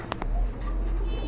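Pigeons at a dealer's collection coo softly and low, a murmuring under steady background noise with a couple of brief sharper sounds.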